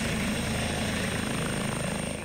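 A medical helicopter flies overhead with a loud, constant rotor and engine roar and a steady low throb, close and unbroken throughout, with no one speaking.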